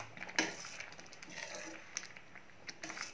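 Dal khichdi (masala daliya with vegetables) being stirred in a pot after simmering covered, giving soft scraping and clinks of a spoon against the metal, quiet and close, with a sharper clink near the start.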